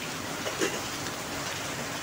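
Heavy, steady rain falls during the stormy rainy season in central Vietnam, an even, close hiss of drops on surfaces with no pauses.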